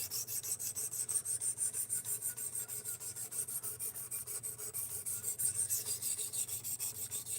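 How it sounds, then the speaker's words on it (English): A knife blade is drawn repeatedly across a Work Sharp sharpener, making rhythmic rasping strokes at a steady pace, roughly two per second, close and moderately loud with no talking. "No, Lumen, that's why we're sharpening it."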